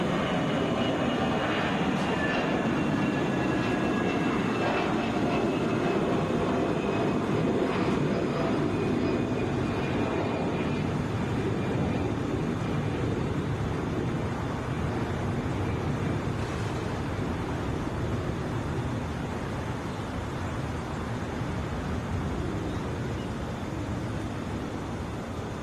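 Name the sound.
Delta Airbus A320 airliner taking off for Toronto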